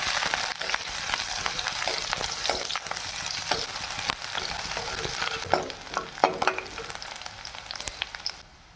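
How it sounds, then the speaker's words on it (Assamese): Onion and garlic frying in hot oil in a kadai, a steady bright sizzle throughout with occasional sharper crackles and spatula scrapes near the end, no voices. "এতিয়া মই পিঁয়াজ দি দিওঁ। মিহি মিহিকৈ ৰচুন কেইটুকুৰমান কাটি দি দিছোঁ।"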